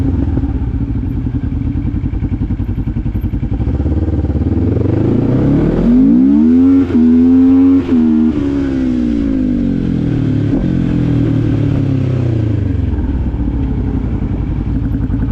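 A KTM motorcycle engine with a quiet exhaust revs up sharply, its pitch climbing and holding for a couple of seconds before dropping back to a steady, rumbling idle.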